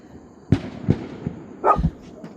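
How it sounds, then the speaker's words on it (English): A few sharp barks from dogs reacting to fireworks at night in the Northern Territory, Australia, ring out in quick succession, fairly distant, with a louder double bark near the end and a faint background hiss. "that one was quite loud and the dogs have just started barking again"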